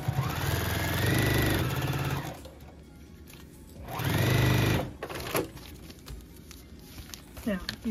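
A sewing machine stitches quilt pieces in two loud runs of steady whirring, each lasting about two seconds, with quieter handling sounds in between.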